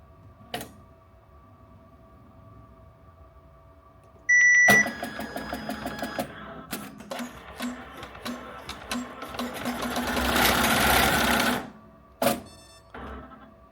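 An embroidery machine stitching a Harry Potter banner beeps, then starts with mechanical clicks and rattling stitches that build into a louder whir before halting and stopping again, close and alone.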